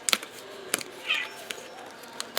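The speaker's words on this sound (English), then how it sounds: "The kitty came in. She says hello." A house cat gives one short, clear meow midway through, amid sharp clicks and taps from paper crafting with a punch strip at a desk nearby.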